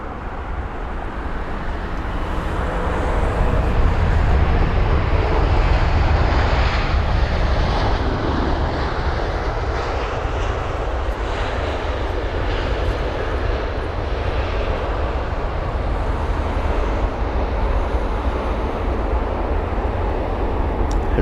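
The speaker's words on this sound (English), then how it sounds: "So here is the British Airways A350." A British Airways Airbus A350 landing at London Heathrow, its engines a loud, continuous broadband roar that holds steady throughout, heard from nearby with faint road traffic in the background.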